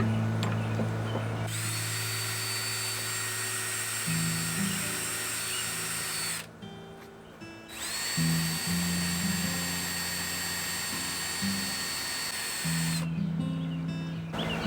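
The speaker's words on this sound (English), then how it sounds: "I'm going to drill a pilot hole because it's just going to be easier." A power drill whirs steadily at close range, pausing briefly midway before spinning up again, with its high motor whine running continuously.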